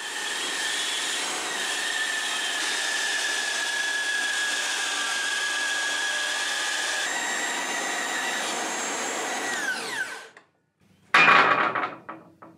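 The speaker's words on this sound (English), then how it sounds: "so I soon switched back to the 85mm circular saw" An 85mm circular saw rips long oak strips, a steady loud whine holding for about ten seconds before winding down, then a short burst of the motor restarting near the end.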